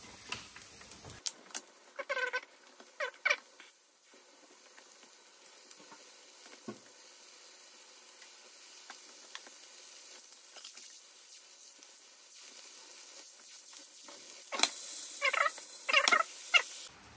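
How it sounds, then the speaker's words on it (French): Meat sizzles quietly in a pan with softened peppers, a faint continuous hiss broken by occasional sharp scrapes and clinks of stirring, with no one talking. "Donc là, la viande a commencé à bien cuire."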